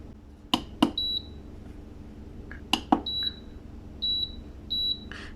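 A food dehydrator beeps as its timer is set, four short high electronic beeps spaced over a few seconds, mixed with sharp clicks and taps of handling nearby in a quiet room.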